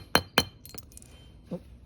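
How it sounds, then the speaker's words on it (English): A hammer taps a billet aluminum shift plate into place in a Subaru Crosstrek, two sharp metallic clinks close together and then a softer third tap, close and clear with no talking. "let me see if I could actually hit this with the hammer first, just to set it in there"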